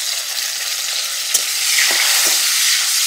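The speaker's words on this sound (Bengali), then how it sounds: "এবার দিয়ে দিচ্ছি কেটে রাখা টমেটো।" Chopped tomatoes hit hot oil with bay leaves, dried red chillies and cumin, a loud, close, dense sizzle that swells midway with a few stirring knocks before cutting off abruptly.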